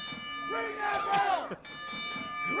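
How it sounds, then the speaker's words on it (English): A bell rings repeatedly at a wrestling show, several bright metallic strikes with ringing overtones heard over crowd noise and shouting voices. "Ring that bell. Ring that bell. Ring that bell."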